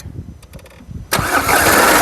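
A 2013 Skoda Rapid with a TDI diesel engine starts again after a moment of near quiet: a quick crank catches, and the engine settles into a loud, steady, close running roar.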